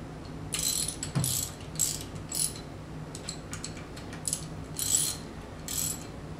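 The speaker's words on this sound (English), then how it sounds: "Tighten these bolts in a cross pattern." A ratchet socket wrench tightens bolts in a cross pattern during a seal service on an Arimitsu 3 Series pump, giving bursts of quick metallic clicking separated by short pauses, close and fairly quiet, with no talk.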